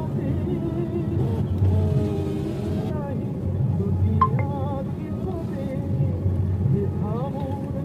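Car driving up onto the Dhaka elevated expressway at night just after the toll, a low steady engine and road rumble beneath a person talking, with a few faint tonal chirps.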